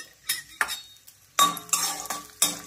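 Peanuts roasting in a hot pan with mustard seeds, cumin and curry leaves, stirred with a metal spoon: a few close, sharp scrapes and clinks against the pan in irregular bursts over a light sizzle, no talking.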